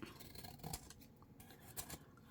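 Scissors snip through paper while trimming a jagged page edge for a handmade hardback botanical journal, giving soft, close, quiet cutting and rasping strokes with a couple of slightly sharper snips.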